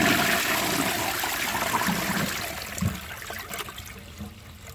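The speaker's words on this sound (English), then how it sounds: "So let's give this a flush and see if it can take that." A Duravit Starck 3 toilet flushes with sand in the bowl, giving a rushing gush of water that fades into trickling and gurgling over a few seconds, moderately close, with no talk.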